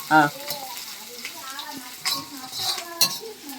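Onions and green chillies stirred in a pan for a Telangana-style horse gram and tomato curry, a few scraping clinks and soft sizzle over a short stretch, with a voice speaking briefly partway through.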